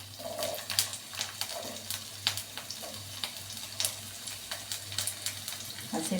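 Chopped onions dropped into about two spoons of hot oil for tomato chutney, sizzling and crackling steadily at close range, with sharp scraping stirs and clinks of a spoon against the pan throughout.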